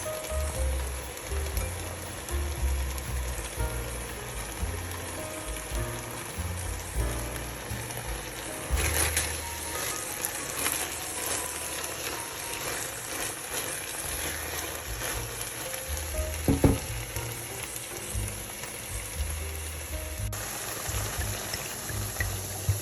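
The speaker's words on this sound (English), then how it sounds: "In another pan, I'm just going to saute the asparagus." Asparagus sautés in a pan for a Mediterranean dinner, giving a continuous soft crackle and hiss throughout with occasional clinks and scrapes, and no talking.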